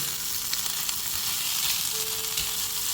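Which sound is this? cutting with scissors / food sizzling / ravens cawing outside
food sizzling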